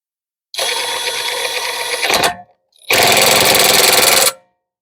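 A Uaoaii 738 ft-lbs 1/2-inch cordless impact wrench tightens a nut in two loud, close hammering bursts of about one and a half seconds each, separated by a short pause, with no talking.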